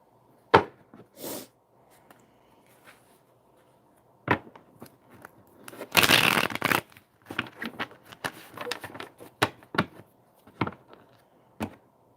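Soft papery riffling and tapping of tarot cards being shuffled, in short irregular bursts with one longer riffle near the middle, close and fairly quiet.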